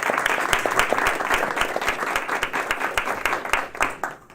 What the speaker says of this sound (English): So please give a round of applause for Tigers Zaria and Ireland